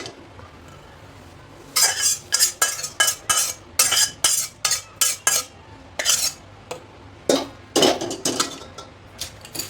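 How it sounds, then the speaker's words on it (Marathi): Bay leaves and whole spices are dry roasted in a pan for a spicy onion-garlic masala, heard as a rapid series of sharp scraping and clinking strokes of a spatula against the metal, close and fairly loud. "ते तमालपत्र पण छान भाजलेले."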